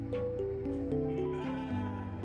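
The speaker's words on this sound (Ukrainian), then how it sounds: "Тепер в нас є вівця" A synthetic, game-like sheep bleats in a wavering, stepped tone, a single drawn-out call lasting about two seconds over a low hum.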